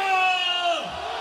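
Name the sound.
party crowd shouting sláva in chorus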